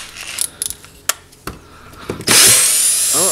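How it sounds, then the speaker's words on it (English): A power drill whirs steadily as it backs a drywall screw out, after a run of sharp clicks and knocks from handling the tool; the motor noise is loud, close and continuous to the end. "let's see if I can even get this drywall screw out of here"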